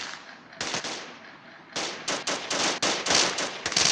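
Gunfire in the Kuboom video game comes in rapid, loud automatic bursts, a short volley followed by a pause and then a longer run of quick shots.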